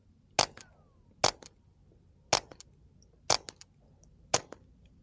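A suppressed Ruger Mark IV pistol fires five CCI standard velocity rounds into dirt, sharp muffled cracks spaced about a second apart, with quiet pauses between them.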